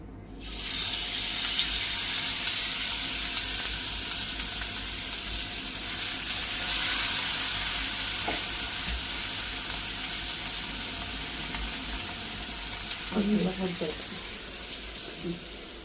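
Marinated fish frying in hot oil gives a steady, loud sizzle that runs through the whole stretch, with a few brief clatters near the end.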